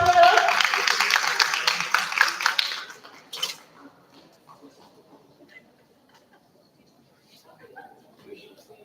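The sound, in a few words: audience applause and clapping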